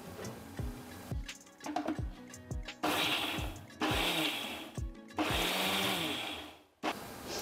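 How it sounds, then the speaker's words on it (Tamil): A mixer grinder crushes sesame and jaggery in short pulses, its motor whirring in three or four bursts separated by brief pauses, with rattling thuds and ticks from the jar in between, close and fairly loud. "இப்போ இதை வந்து பல்ஸ் மோடில் அரைக்கணும்"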